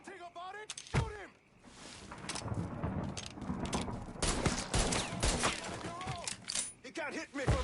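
Rapid bursts of gunfire in the video game Mafia 3 crackle and overlap with other game sounds, loud and sustained, while voices talk over the action.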